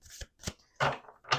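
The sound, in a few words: shuffling tarot cards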